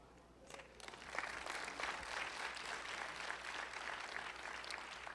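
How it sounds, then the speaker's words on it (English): An audience claps at a keynote speech during a Black History celebration, the applause swelling after a quiet start and continuing steadily but softly at a distance. "And I appreciate the hand claps."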